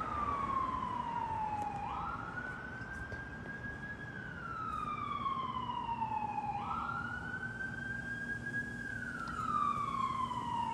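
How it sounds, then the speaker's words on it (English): An ambulance siren wails in slow rising and falling sweeps, repeating twice over a steady background hum of traffic, heard from some distance and fairly faint. "Yep, an ambulance."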